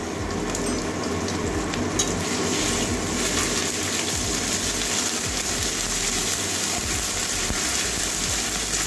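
Ginger garlic paste frying in oil with whole cinnamon, cloves and cardamom, a steady close sizzle with faint stirring scrapes throughout, no talking.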